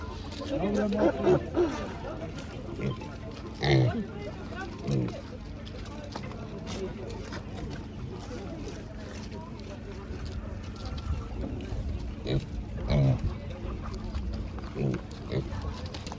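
Pigs grunt and squeal in short bursts amid a busy, noisy market, with people talking throughout.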